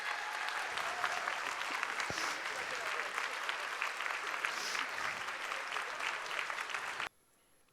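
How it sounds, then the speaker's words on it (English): A crowd at an evening event honoring women who make a difference applauds the men present, with full, sustained clapping for about seven seconds that cuts off abruptly into near silence. "let's give a round of applause to the bodacious men who are here tonight."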